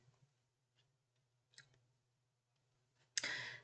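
Several sparse, quiet computer mouse clicks as a plus zoom button is pressed in an Excel spreadsheet, spaced apart over a faint hum and ending in a sharper burst of noise.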